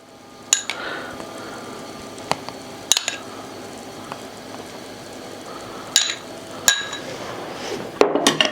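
Egg is mixed into gulab jamun dough of milk powder and butter in a bowl, heard as a soft, quiet mixing texture punctuated by several sharp clinks of a utensil against the bowl.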